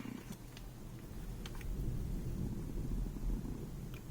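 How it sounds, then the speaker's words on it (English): A low, distant rumble of thunder rolls on for several seconds, faint and steady, heard indoors with no one speaking. "that's thunder, friends."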